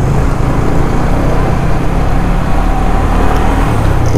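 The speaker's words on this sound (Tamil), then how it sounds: "இந்நாட்டில் இவ்வளோ டிராஃபிக்கா" Dense road traffic noise on a busy street near Kovalam beach, a constant loud rumble of passing cars and heavier vehicles with no pauses.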